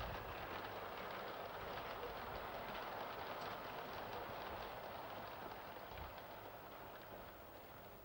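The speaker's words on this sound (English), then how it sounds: "This is the train from Rockhill arriving at Ledgham High Street" A British railway train from Rockhill pulls into Ledgham High Street station, its steady rumble and wheel noise loud and continuous throughout, easing off slightly towards the end with no voices present.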